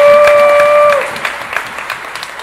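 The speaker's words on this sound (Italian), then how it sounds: "Io farei un applauso a una signora importantissima" An audience applauds at an award ceremony, clapping rising as held electronic tones fade after the first second, then continuing as scattered, uneven claps.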